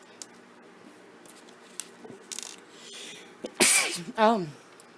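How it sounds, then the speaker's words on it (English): A sharp sneeze bursts out over a quiet room background, with a short voiced tail and some small handling noises before it. "Goodness, excuse me, sneeze."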